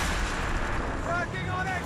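Ship cannons booming in a naval battle in Assassin's Creed Rogue, a dense, continuous roar of heavy blasts under shouting crew voices.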